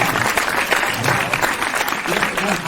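Audience at a Hindi kavi sammelan poetry gathering breaks into sustained applause, many hands clapping densely and loudly with crowd murmurs mixed in, continuing evenly throughout.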